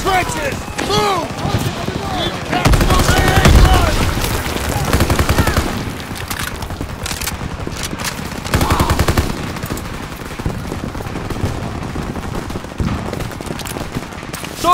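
Machine gun fire in Call of Duty WW2's final campaign mission, loud rapid bursts rattling in rhythmic volleys under shouted orders and battlefield chaos, with heavier impacts mixed in throughout.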